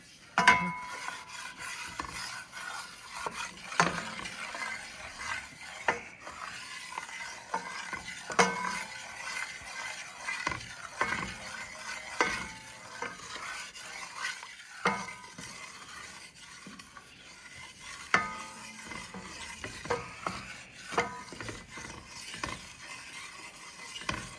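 A roux cooks to a coffee-with-milk brown in a pan under steady, continuous stirring, giving a close rhythmic scrape and rasp of the utensil against the pan bottom that repeats without pause and with no talk.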